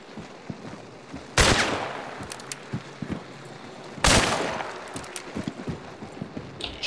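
Two loud, sharp gunshots ring out in the game Hunt: Showdown, about three seconds apart, each with a long echoing tail over a faint background of small ticks and rustles.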